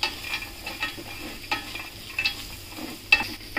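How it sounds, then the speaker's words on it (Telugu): Cashew nuts frying in a pan for a tomato cashew curry, with soft sizzling and intermittent scraping stir strokes, fairly faint and close, with no talk. "కాజు వేసుకొని బాగా ఫ్రై అయ్యే వరకు ఫ్రై చేయాలి, కాజు రెడ్డిష్ గా రావాలి కొంచెం"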